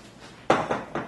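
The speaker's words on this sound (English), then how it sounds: "I'm just going to throw these into my pot." Chopped ingredients for a potato salad with capers, onions and herbs drop into a cooking pot in two or three quick, close clattering thuds with brief metallic rings, followed by silence.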